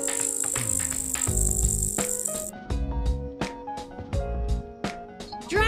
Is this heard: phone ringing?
no